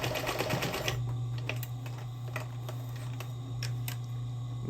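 A sewing machine runs steadily, stitching back over a section of zipper on a crazy-quilt scrap fabric pouch, its low motor hum constant and close, with light clicks and ticks over it.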